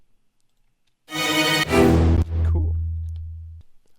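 Layered Session Strings, a Kashmir string stab and a strong brass note hit together in a loud stacked chord that shifts into a lingering low tone before cutting off, with a brief spoken word afterward.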